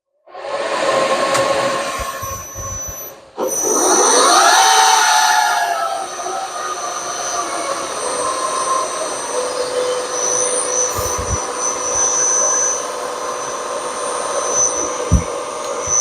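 Milling machine cutting a steel table stop: a loud, steady high-pitched machining whine and grinding roar that rises as the cutter engages, continuous and close, with occasional clanks.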